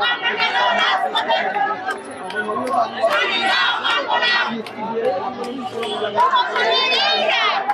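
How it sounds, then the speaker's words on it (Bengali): Protesting teachers crowd together at Shahbag, chanting slogans and shouting in a continuous, loud mass of voices, rising and falling in waves with overlapping calls throughout. "তারা কিন্তু বিভিন্ন স্লোগানে লিপ্ত রয়েছেন"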